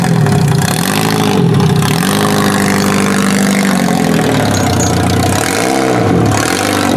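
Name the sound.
car engine running after sitting two years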